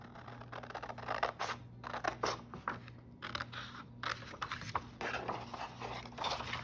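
Scissors cut out a paper drawing, a grid-drawn self portrait, with a series of crisp snips and paper scrapes in irregular rhythm, close and fairly quiet over a low background hum, without talking.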